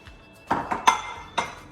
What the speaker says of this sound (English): So let's go ahead and get this pot ready over here.